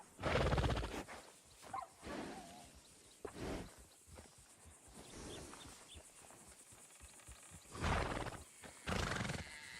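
A horse in Red Dead Redemption 2 snorts and whinnies a few times at close range at a stable, with scattered hoof and movement noises between the calls.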